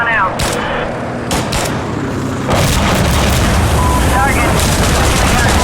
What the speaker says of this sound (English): Rocket's going out.